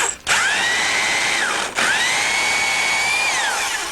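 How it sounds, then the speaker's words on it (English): Electric drill driving a case trimmer for cutting down ammunition cases, two bursts of high whining motor that spin up, hold steady and wind down, fairly loud and close. "we can attach our electric drill here and just watch this"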